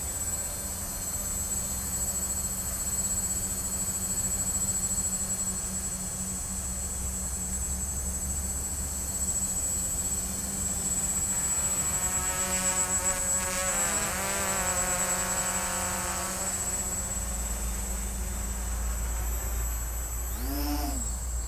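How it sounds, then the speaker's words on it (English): HoverThings FPV-frame quadcopter running a Multiwii 2.0 Pro flight controller in flight, a steady multi-rotor whine with a rising and falling tonal buzz partway through as it climbs and manoeuvres, fairly close. "Oh my god, it jumps faster than any quad I've ever owned."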